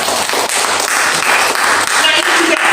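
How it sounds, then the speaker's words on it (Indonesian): Congregation at a church service held in an apartment applauding together, a steady dense wash of clapping hands lasting throughout, fairly close and loud. "Tepuk tangan untuk Tuhan."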